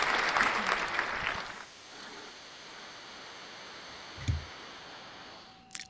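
A short burst of clapping, loud and close for about a second and a half, then cutting off into quiet room noise with a faint click later.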